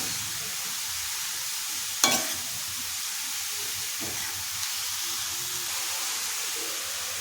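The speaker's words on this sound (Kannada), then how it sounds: "ಇದನ್ನು ಒಂದು 5-6 ಸೆಕೆಂಡು ಫ್ರೈ ಮಾಡ್ಕೋಬೇಕಾಗುತ್ತೆ" Cabbage and chopped vegetables frying in a pan for bread toast, a steady close sizzle and hiss throughout with a sharp clatter of stirring near the start and a fainter knock later.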